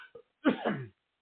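A person clears their throat once, starting with a short soft catch and then a fuller, raspy rasp of about half a second. Close and fairly quiet, with no speech.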